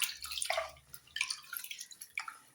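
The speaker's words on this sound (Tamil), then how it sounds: "அரிசியை வடிவா கழுவி எடுப்போம்." Rice is washed in a pot of water, with a few close, distinct sloshes and drips as grains and water are stirred and poured.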